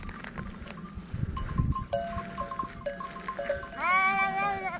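A lamb bleats loudly and repeatedly near at hand, wavering high cries amid soft rustling and shuffling of a sheep flock.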